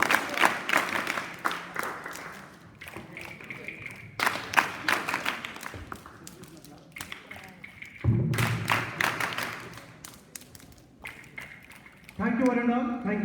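Students and staff at a school Republic Day celebration repeat a patterned clap sequence together, crisp rhythmic bursts separated by pauses, with speech heard in between.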